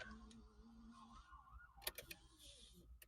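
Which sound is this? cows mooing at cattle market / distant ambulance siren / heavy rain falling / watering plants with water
distant ambulance siren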